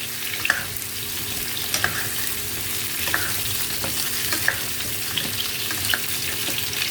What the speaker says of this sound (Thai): ผัดก่อนนะคะผัดก่อน